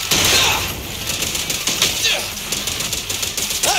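Rapid, loud bursts of gunfire from a character in the action game Zenless Zone Zero, sustained and dense throughout with crackling impacts; effects and voices from the game mix in.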